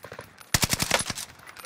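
Gunfire in Call of Duty Warzone on Caldera: a quiet rattle of shots, then a louder close burst of rapid automatic fire from a light machine gun.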